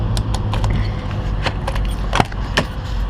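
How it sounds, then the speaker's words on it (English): Keys jangle and clink in rapid, bright bursts while a door is being unlocked at a truck yard, with a low engine rumble running steadily underneath. "I'm going to unlock it. Yes, I do have my keys."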